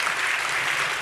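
Audience in a university hall at a national science-communication final applauds an introduced interpreter. A brief, even wash of many hands clapping, moderately loud and unbroken, with no one speaking over it.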